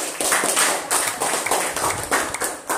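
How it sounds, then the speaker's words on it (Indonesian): A short burst of hand clapping in a classroom, several people applauding a pupil together in quick, uneven rhythm, close and fairly loud. "tepuk tangan dulu Dirga"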